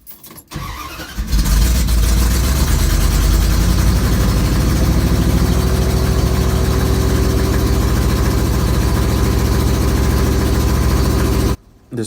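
A 1972 Dodge D100 pickup with an Edelbrock carburetor idles very fast and loud, a steady, rapid engine drone after a brief start at the beginning, cutting off near the end.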